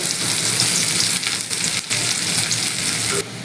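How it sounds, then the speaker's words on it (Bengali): Chopped onion hits hot oil in a pan for spinach frying, producing a loud, dense, steady sizzle close up with faint stirring and no voices. "এবার ওই তেলের মধ্যে পেঁয়াজ কুচিটা ছেড়ে দিচ্ছি পেঁয়াজটাকে একটু হালকা বাদামি করে ভেজে নেব"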